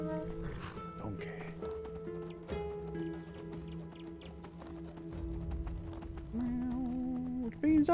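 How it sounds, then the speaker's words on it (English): Donkey hooves clip-clop in the fantasy game Enderal, a steady patter of hoofbeats under game music and ambience while a person talks over it. "Donkey."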